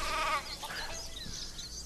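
Sheep bleating in the video game Craft the World, one clear bleat near the start followed by fainter animal calls.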